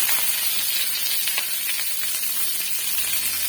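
Sliced onions and curry leaves hit hot oil with popped mustard seeds, raising a loud, close sizzling hiss with scattered crackles that stays steady throughout.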